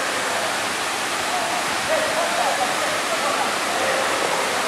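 Saddhi Koodu Madugu waterfall, a steady dense roar of falling water filling the whole clip at moderate level, with no clear voices above it.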